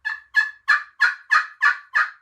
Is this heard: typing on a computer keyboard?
no